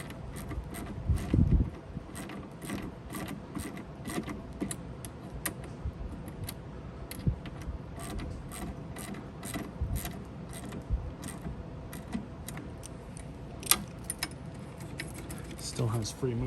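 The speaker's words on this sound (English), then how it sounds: "you'll need a 10mm socket, and we're just going to tighten it down" A ratchet with a 10mm socket tightens a cable bolt on a Husqvarna/Craftsman machine, giving rapid, steady clicks in a long run, close and fairly quiet.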